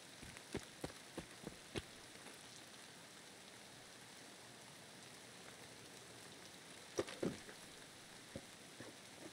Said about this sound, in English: take your time, listen to the rain.